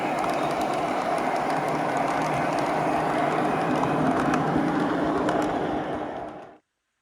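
Two O scale model train engines run double-headed through a tunnel on a home layout, making a steady close rumble with faint clicking wheels before the sound cuts off abruptly.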